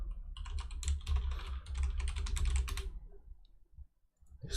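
Rapid typing on a computer keyboard, with dense bursts of clicking keys for about three seconds, then a pause and a few isolated taps that could be backspace presses, close and clear.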